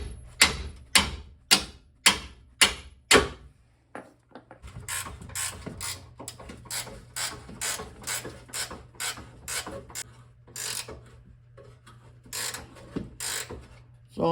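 Hand wrench or ratchet working undercoated bolts on a 1976 Mercury Monarch during classic car restoration, giving bursts of quick close clicking strokes in rhythmic runs with short pauses, loud and alone.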